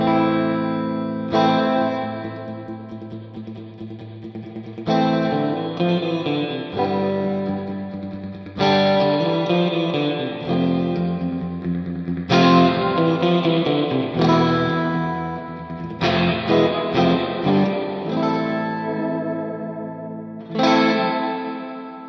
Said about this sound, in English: So let's just take a listen to the spring reverb.